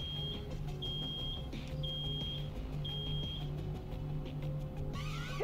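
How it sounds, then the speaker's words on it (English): In the video game Road 96, an alarm beeps in steady, repeated high electronic tones, each lasting about half a second, loud over a constant low mechanical drone with no talking. "Something's beeping."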